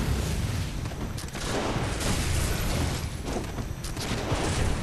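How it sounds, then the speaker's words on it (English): An enemy hunter fires a shotgun in the game Bloodborne, with loud, dense booming blasts over a constant rumbling background of combat noise and no talking. "this guy keeps staggering us with his shotgun"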